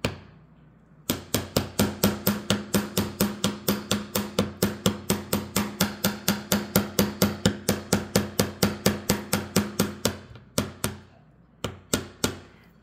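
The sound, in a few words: hammering on the back of a bead frame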